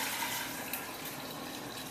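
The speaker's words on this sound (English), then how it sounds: "you're going to pour it into your gallon jar" Room-temperature brewed tea pours steadily into a gallon glass jar for kombucha, a close, continuous splashing gush of liquid.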